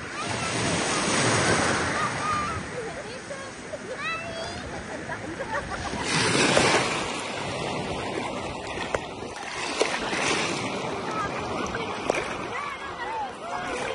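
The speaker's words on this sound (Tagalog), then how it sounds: "Medyo lumakas na yung alon." Sea waves surge along a clear-water shore in Italy, a continuous wash of surf rising and falling close by, with faint voices talking underneath.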